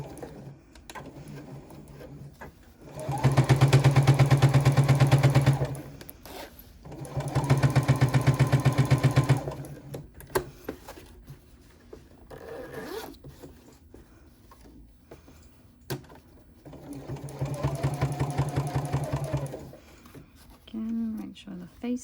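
Sewing machine stitching an interior zipper pocket, running in three steady bursts of a few seconds each with quiet pauses between, close and moderately loud.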